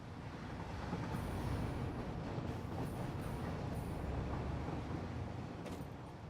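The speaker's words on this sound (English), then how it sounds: "there goes the other coal train" A coal train in the factory game Satisfactory rolls past with a steady, dense rumble and faint high squeals and clicks on top, continuous throughout and fairly loud.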